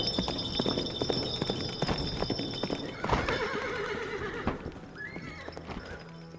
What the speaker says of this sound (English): the Green Knight flies so quickly from the hall, the hooves of his horse strike up bright sparks from the floor